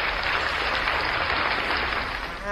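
A crowd claps in steady, dense applause, loud and continuous with no pauses for the whole stretch.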